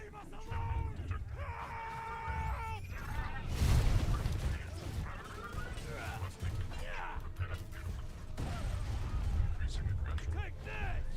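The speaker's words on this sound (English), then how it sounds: "I'm hearing more gunfire." Gunfire in a video game comes as two sharp bursts, one early and one later, surrounded by busy game ambience and voices.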